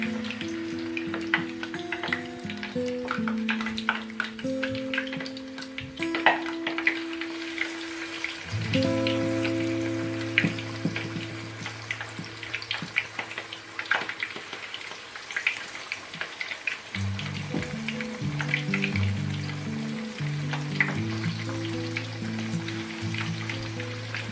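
Spiced fish slid into hot oil gives off a steady, soft sizzling crackle that continues beneath background music with sustained tones.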